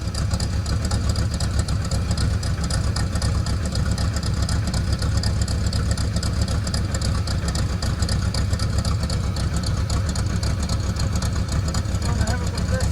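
A 1976 Holden Sandman ute's engine holds a steady high idle, a loud, close, continuous rumble with a faint buzzing edge, running unchanged throughout as voices murmur underneath.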